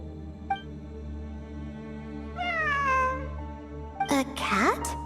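Cat meowing in the video game Genshin Impact: a lone meow, then a longer wavering meow in the middle, and a final strained, rising cry, close and clear over a steady game background hum.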